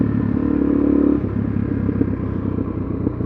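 A Suzuki DRZ400SM motorcycle engine idles nearby in a garage, a steady low thumping putter that holds even throughout with no talking.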